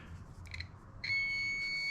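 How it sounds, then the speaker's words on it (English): A multimeter set to continuity gives one sustained high electronic beep during a test on a 1955 car's dome light switch, preceded by faint clicks and brief chirps as the probes touch. "It's set on squawk where it beeps at you"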